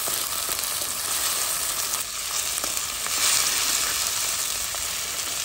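Chopped tomato fries with onion in a pan for a Goan kingfish curry, giving a steady, loud, bright sizzle that runs without a break from start to finish.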